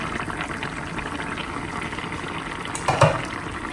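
Low bubbling and soft sizzling from a covered pot of Kerala-style crab curry simmering, a steady close churn with a small clink near the end and no talking.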